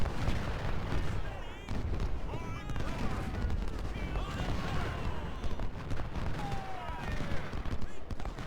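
Rapid gunfire and sharp musket cracks from a Civil War battle in the strategy game Ultimate General: Civil War, with dense overlapping shots, booming bursts and a sniper firing throughout.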